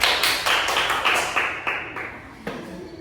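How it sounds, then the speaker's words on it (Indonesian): Classroom applause, a short burst of several sharp claps in an irregular rhythm, close and fairly loud, trailing off after a few seconds with a final clap. "Beri aplaus dulu untuk si Raffiat ya"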